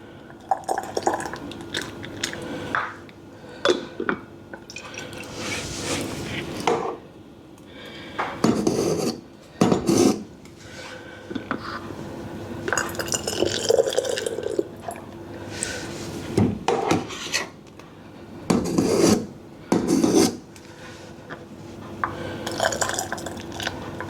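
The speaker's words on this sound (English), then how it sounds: "Make sure I grab a bit of fruit each time in the jar with the liquid." Fruit and liquid spooned from a pan into glass jam jars, with repeated scraping and clinking of a spoon against metal and glass, wet slops and drips, in uneven bursts separated by brief pauses.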